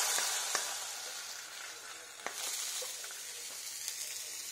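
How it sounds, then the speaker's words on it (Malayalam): Curry leaf tempering with dried red chillies, hot from the oil, poured into banana stem rasam: a steady close sizzle and frying hiss with a few sharp crackles and pops. "ഈ നമ്മളുടെ കറിവേപ്പില, ഇത് നമുക്ക് നമ്മളെ രസത്തിൽ ഉണ്ണിത്തണ്ട് രസത്തിലേക്ക് ഒഴിച്ചു കൊടുക്കാം."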